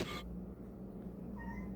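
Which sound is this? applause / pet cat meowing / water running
pet cat meowing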